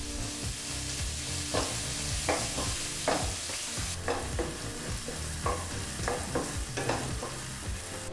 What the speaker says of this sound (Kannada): ಈಗಿಲ್ಲಿ ಈರುಳ್ಳಿನ 2-3 ನಿಮಿಷ ನೀಟಾಗಿ ಫ್ರೈ ಮಾಡಾಯಿತು.